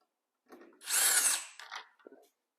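Power drill driving screws into a ceiling fan blade, one short whirring burst rising to a strong high-pitched spin for about a second, then a few brief weaker bursts, close and alone.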